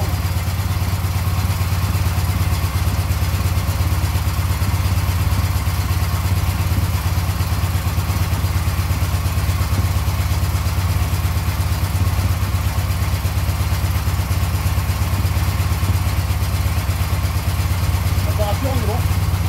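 A fully rebuilt K750 motorcycle engine runs steadily at close range, a loud continuous idle with a constant mechanical drone and no pauses.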